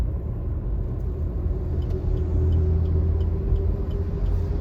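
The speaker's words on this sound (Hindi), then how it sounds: "फिर से हमारी कार मोशन में स्टार्ट हो गई, एनफ स्पीड हो गई है" Steady low engine hum and road rumble from inside a car cruising in third gear, even and close, with faint ticks in the background.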